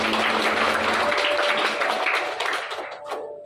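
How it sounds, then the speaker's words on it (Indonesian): Church congregation applauding during a sermon, a full wash of clapping that thins and fades toward the end, leaving a few scattered claps and a faint sustained tone. "Berikan tepuk tangan bagi Tuhan kita"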